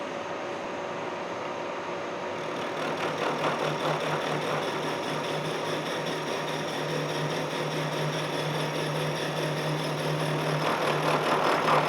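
Steady machining drone of a tool cutting a bronze connecting rod for a steam stoker engine, the rod clamped in a vise, running at a conservative feed and growing slightly louder after the first couple of seconds, with no talk.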